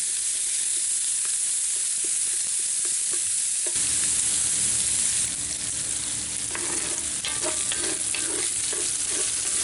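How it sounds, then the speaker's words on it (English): Chorizo sausage browning in a 14-inch Lodge cast iron pan hisses loudly and steadily up close, with a hum entering partway through and clattering stirring near the end, and no one speaking. "So we're just going to brown off this sausage real quick, and then we'll take it out of the pan."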